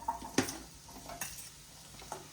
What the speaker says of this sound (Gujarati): હવે આપણે ઘીમાં ખજૂરને સાંતળી લેશું